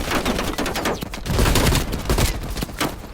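Heavy machine gun fire in the Call of Duty Cold War game, a loud, dense, continuous burst of rapid gunfire mixed with battle noise throughout, without pauses.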